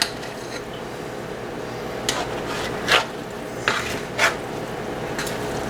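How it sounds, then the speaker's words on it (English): A spoon scrapes and clanks through freshwater mussels and corn in a metal pot, a few distinct knocks and scrapes over a steady low hiss, close and alone without voices. "I'm going to go ahead and stir them up a little bit right now"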